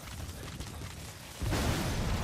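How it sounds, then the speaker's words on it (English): A muffled rumble builds, then a loud broad video game explosion hits midway and roars on until the end. "did you see that explosion?"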